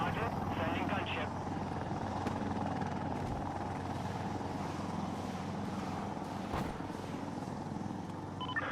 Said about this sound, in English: Sending gunship.